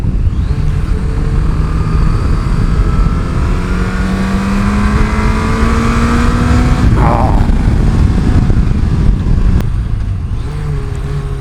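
A Yamaha XJ 900 F motorcycle engine drones steadily while riding, its pitch climbing gradually through a gear, dipping briefly at a shift, with constant wind and road roar underneath.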